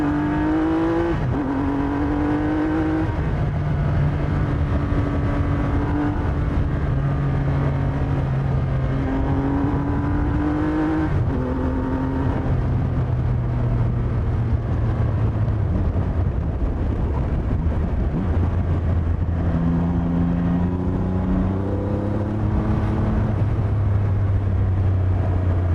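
Loud, close engine revving of a 2020 Triumph Rocket 3 R motorcycle with its upgraded three-cylinder engine, pitch climbing and dropping through repeated rises and shifts across the whole stretch, with no talk over it.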